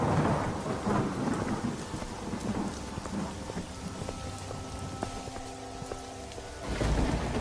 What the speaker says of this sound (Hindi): तभी जोर जोर से बारिश शुरू हो जाती है।